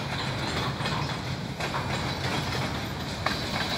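Freight rail cars roll by nearby with a dense rumbling rush and faint rhythmic clatter from the wheels, steady throughout the short stretch.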